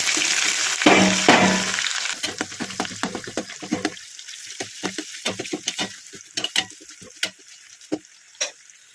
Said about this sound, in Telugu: రెండు యాలకులు చెక్క అనాస పువ్వు ఇవి వేగిన తర్వాత ఒక ఉల్లిపాయ ఇలా సన్నగా తరుక్కొని వేసేస్తాను